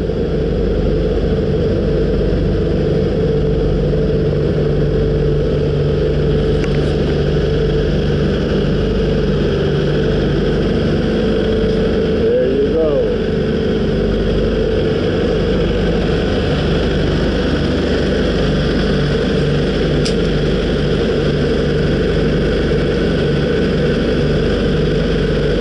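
A Kubota two-cylinder auxiliary engine on a Kenworth T680 truck runs steadily to charge the battery, giving a close, even mechanical drone throughout with no voices.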